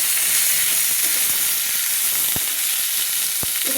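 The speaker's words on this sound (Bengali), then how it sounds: "এবার টমেটোগুলোকে একটু তেলের মধ্যে আমি ভেজে নেব, যাতে নরম হয়ে যায় এবং একটু গলে যায়।" Chopped tomatoes fry in hot oil for a Bengali chana dal, giving a steady broadband sizzle throughout, with two sharp clicks of a spoon against the pan near the end. No one speaks.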